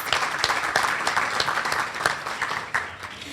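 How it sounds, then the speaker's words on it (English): A crowd applauds steadily, a dense patter of many hands clapping together at moderate volume, tapering slightly toward the end. "Please give them all a round of applause."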